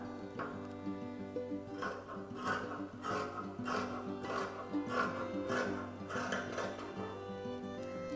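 Scissors cut through fabric for a nightie, giving a run of rhythmic close snipping and rasping strokes over a low steady hum.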